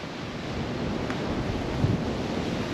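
Steady wind roars across the microphone in a medieval village street at Saint-Guilhem-le-Désert, a broad continuous rush with slight gusting swells and no voices.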